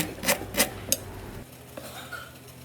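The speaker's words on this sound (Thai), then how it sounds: "นำตะไคร้มาหั่นซอย" Three crisp broadband cuts ring out close up on a board as a knife slices lemongrass stalks, followed by quieter faint kitchen clatter.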